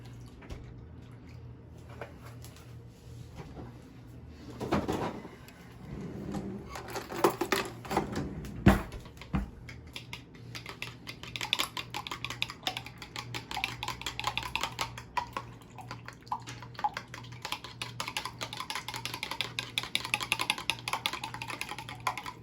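Cracked eggs and a splash of whole milk beaten hard in a bowl for a breakfast casserole, a fast rapid ticking clatter of utensil against the bowl that builds and stays busy and close throughout.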